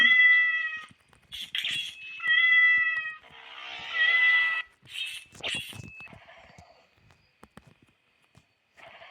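A cat meows several times close by, drawn-out and insistent, with short pauses and some faint rustling between cries.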